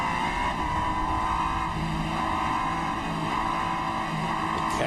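On-board GT race car engine at Road America, a loud continuous drone as the driver modulates the throttle, with slight rises and dips in pitch.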